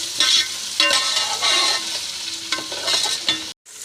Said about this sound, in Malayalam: കുറച്ച് വേപ്പിൻ്റെ ഇല, പിന്നെ മുരിഞ്ഞ് വരട്ടുക.